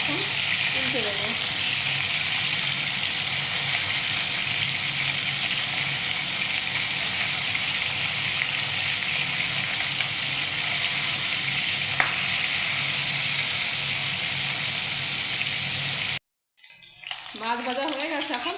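Fish frying in hot oil gives a steady, loud sizzle with broadband crackle that holds for about sixteen seconds, then cuts off abruptly, followed by a brief clatter and a faint voice.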